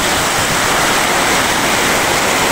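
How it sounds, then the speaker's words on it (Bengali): Heavy rain pours down in a dense, loud, unbroken hiss with no let-up. "অনেক বৃষ্টি পড়তেছে।"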